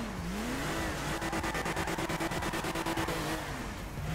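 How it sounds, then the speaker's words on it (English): A Toyota Supra engine in GTA 5 revs hard and loud, rising and falling in pitch with a rapid stuttering burst of rev-limiter pulses in the middle, close and alone with no talk. "This Supra is pretty loud though"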